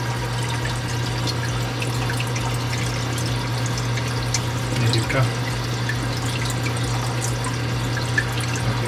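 Water trickles and flows into a Red Sea RSK 600 protein skimmer in a reef aquarium setup, a steady wash over a constant pump hum, with someone speaking briefly.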